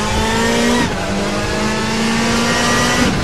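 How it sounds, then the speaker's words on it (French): Front-wheel-drive race car in RaceRoom Racing Experience, lapping the Paul Ricard circuit: a steady loud engine drone holds high revs, drops briefly with a gear change near one second, then climbs again, continuous and close. "c'est un engin, comme toutes les tractions avant, qui ne supporte pas à peu près"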